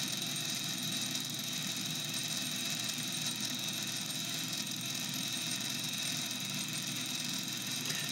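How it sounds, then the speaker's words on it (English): A phonograph motor with a governor spinning steadily, a constant faint even hum and whir with no change in speed throughout. "So this should be a very good steady running motor then."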